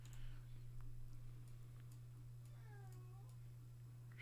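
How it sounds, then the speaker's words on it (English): A cat meows faintly in a short descending call partway through, set against a steady low hum and quiet background noise while playing a Magic Online Pioneer match. "Quiet, kitty cat!"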